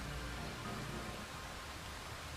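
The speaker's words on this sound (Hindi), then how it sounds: "तो बारिश है यहाँ पर" Steady rain falls on a village farm field, giving a faint, even hiss with no breaks and no voices.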